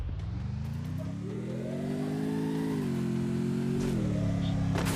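A car engine in a video game holds a steady mid-pitched drone that rises as it revs and then levels off, loud and continuous throughout with no talking over it.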